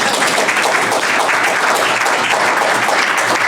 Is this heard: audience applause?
yes